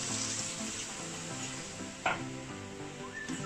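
Spinach simmers in salted water in a pan with a low steady sizzle and bubbling, interrupted by one brief scrape of stirring partway through.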